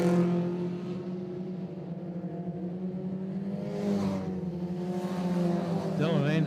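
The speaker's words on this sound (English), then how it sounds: "Dylan Anderson certainly throws that wee car around" A small speedway car is thrown hard around a dirt oval track, its engine droning and revving at a distance while a commentator talks over it throughout.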